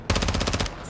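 Rapid submachine gun fire from an MP7 in Modern Warfare 2, a tight burst of about ten evenly spaced shots, loud and close, cutting off abruptly with no talk.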